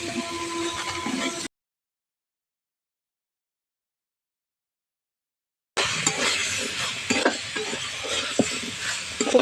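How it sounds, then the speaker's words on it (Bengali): Chickpeas stir-frying with spices for chana paneer, a close sizzle with scraping and stirring knocks, cut off by a few seconds of dead silence before the frying and scraping resume. "সব একসঙ্গে ভালো করে আবারও কষিয়ে নেব"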